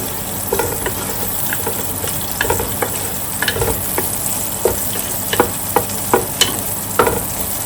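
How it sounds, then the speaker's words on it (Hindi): Small chopped onion browns in a pan, frying with a steady close sizzle while a utensil stirs and scrapes, sending out a run of sharp clicks and taps, with no voices. "अब इसे थोड़ा सा हमने ब्राउन कर लेना अनियन को"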